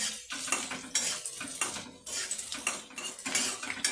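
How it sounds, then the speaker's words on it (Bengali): Chopped chili, onion, garlic and ginger fry lightly in hot oil while a metal spatula scrapes and clanks rhythmically against the pan, loud and close over a faint sizzle, no voices. "ওই তেলের মধ্যে আমি লঙ্কা কুচি, পেঁয়াজ কুচি, রসুন কুচি, আদা কুচি দিয়ে দিলাম।"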